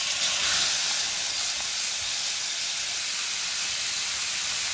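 Chicken premixed with spices and oil drops into hot oil, giving a loud, steady sizzling hiss that holds evenly for several seconds without any talk.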